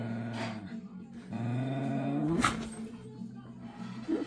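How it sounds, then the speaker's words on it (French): A pet dog growling in low, drawn-out rumbles that rise in pitch, with a sharp yip near the middle, fairly close and moderately loud; a person speaks briefly alongside. "Ça, c'est mon ancien chien Yuki"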